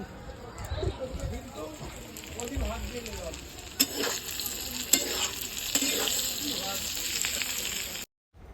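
Food frying in a pan gives a steady sizzle with stirring scrapes running close and moderately loud, while a voice talks over it before everything stops abruptly near the end.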